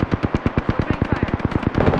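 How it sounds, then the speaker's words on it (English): A loud, fast burst of automatic gunfire in the video game Apex Legends, about twenty evenly spaced shots in a steady close rhythm for two seconds. "They're shooting at me."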